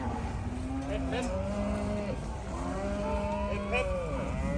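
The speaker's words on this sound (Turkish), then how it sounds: "oradan kapıdan bize bakan siyah alaca Honstein düvelerimiz araca yüklenecek" Black-and-white Holstein heifers in a holding paddock moo repeatedly, long low calls that overlap one another over a steady background rumble.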